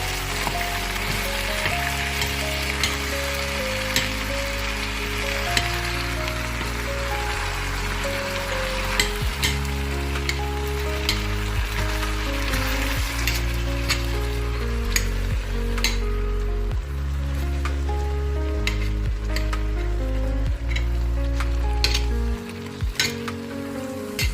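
Tomatoes sizzle and fry steadily in a hot pan for a Hungarian-style bograch stew, a continuous loud crackle with occasional clinks, under a steady musical background with no talk.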